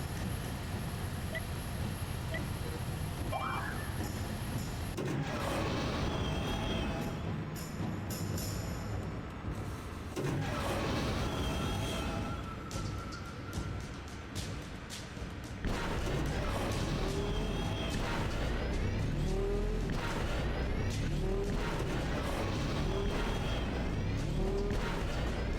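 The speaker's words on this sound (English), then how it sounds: "Pod racing, woo! Press A to accelerate and shift gears." Swoop bike racing in Knights of the Old Republic: a continuous roaring engine drone with rising whines and whooshing passes, steady and loud throughout the race with no pauses.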